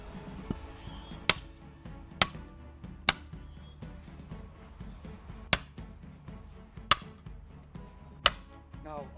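Sledgehammer striking a steel wedge to split a log, six sharp metallic clinks spaced unevenly apart, near and loud over faint background noise.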